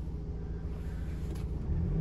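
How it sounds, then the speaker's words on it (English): A 2018 Ford Transit 2.0L diesel jumbo refrigerated van running at idle: a steady, low, close engine rumble that holds even throughout, with no voices. "Turn the vehicle on."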